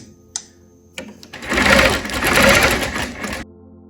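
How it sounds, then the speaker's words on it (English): A sewing machine stitches in the ditch on a wholecloth lotus flower quilt, a couple of short clicks followed by about two seconds of loud, steady close-up running that stops abruptly. "I'm just going to stitch around that."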